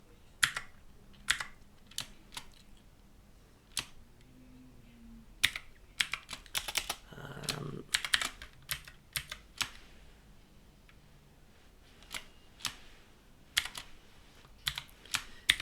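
Code being typed on a computer keyboard, irregular bursts of close, crisp key clicks separated by short pauses, quiet and alone without speech.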